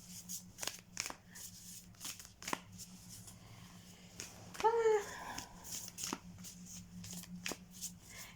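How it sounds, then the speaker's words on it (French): A deck of oracle cards is shuffled by hand at close range, a rapid series of papery riffles and flicks with a brief louder rustle in the middle. "Hop, je vais les mélanger derrière caméra."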